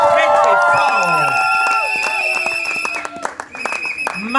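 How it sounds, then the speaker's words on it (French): Wedding guests at a civil ceremony cheer and applaud loudly together, a dense mix of clapping, shouts and whistles, with music playing and voices rising over the noise. "On acclame très très fort"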